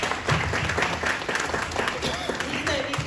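Audience applause for panelists at a panel discussion event in Leicester, sustained clapping from a crowd with voices talking and murmuring over it.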